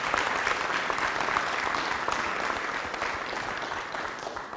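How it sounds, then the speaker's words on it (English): An audience at a Rotary club meeting applauds District Governor Tim Ryan, with steady, dense clapping from many hands that holds for several seconds and then slowly thins out. "One more round of applause."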